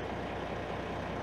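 International ProStar truck with a Cummins ISX15 diesel engine idles steadily, a low continuous rumble close by for a brief moment, no talking.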